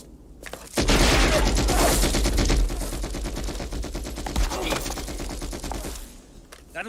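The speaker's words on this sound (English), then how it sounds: "That was a gun." Sustained gunfire, a loud, dense burst of rapid automatic shots lasting several seconds, close and harsh, trailing off at the end.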